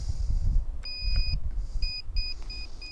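Lost-model alarm on an Eachine Racer 250 quadcopter drone with 5045 five-inch props and 3S lipo: a series of short, piercing electronic beeps in uneven bursts, clear over a low background rumble.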